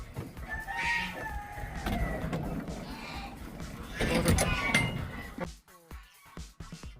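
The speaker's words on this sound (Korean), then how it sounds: "공사장 소리만큼 시끄러운 거위들" Loud, harsh honking from a flock of geese in below-freezing weather, overlapping and chaotic, with a few sharp clinks and rustles near the end.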